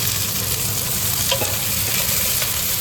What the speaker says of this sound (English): Put the garlic in. And the asparagus.